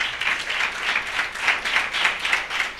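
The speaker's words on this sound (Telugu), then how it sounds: "ఒకసారి మనం చప్పట్లు కొట్టి దేవుని మహిమపడదాం" A church congregation claps in rhythm during a Lent service at a cathedral: a steady run of close, even hand claps that swells and fades in regular pulses, with no talking.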